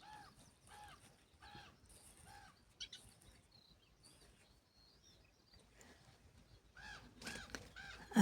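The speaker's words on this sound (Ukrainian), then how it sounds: "Тут в мене десь горобці літають." Faint, short chirps from sparrows repeat in a loose rhythm at a distance in a hot garden, with a few louder rustling sounds near the end.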